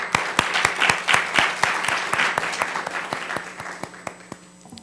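An audience at a library literacy program's tutor and learner recognition event claps for tutors and teachers, with sharp individual claps standing out in a steady round that fades gradually toward the end.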